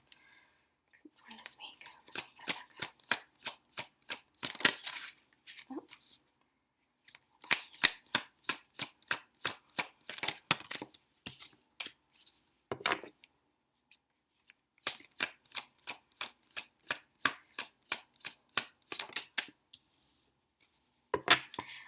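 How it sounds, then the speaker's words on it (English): Tarot cards are shuffled in rapid, rhythmic bursts of crisp riffling clicks, separated by brief pauses, with soft whispering in between. "So let's pull some other cards to see what other messages are coming up for you this week."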